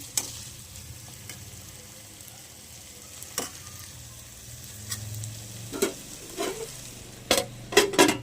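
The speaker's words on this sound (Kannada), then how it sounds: "ಎಲ್ಲ ತರಕಾರಿ ಬೀನ್ಸು, ಕ್ಯಾರೆಟು, ಆಲೂಗಡ್ಡೆ ಸಣ್ಣದಾಗಿ ಹಚ್ಕೊಂಡಿರ್ತೀವಲ್ಲ ಅದನ್ನೆಲ್ಲ ಹಾಕಿ ಎಣ್ಣೆಲೆ ಫ್ರೈ ಮಾಡ್ಕೊಳ್ಳೋಣ" Finely chopped beans, carrot and potato fry in oil with a steady low sizzle, broken by sharp scraping clicks of a spatula stirring the pan, bunched more densely toward the end; no one speaks.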